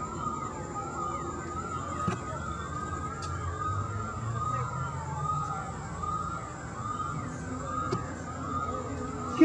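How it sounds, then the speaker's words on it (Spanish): Emergency vehicle sirens wailing at a distance across a Puerto Rico neighborhood near a gas plant explosion, rising and falling tones over a low background rumble, faint and steady throughout with no talk. "se escuchan las sirenas"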